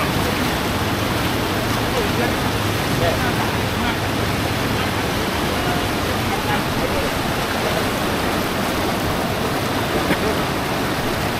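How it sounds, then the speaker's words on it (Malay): A fast, strong river current in waist-deep water makes a steady, loud, unbroken rushing roar that fills the whole scene without pause. "Lepas tu arusnya laju deras."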